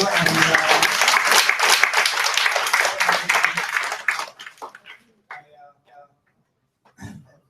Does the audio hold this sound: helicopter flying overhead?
no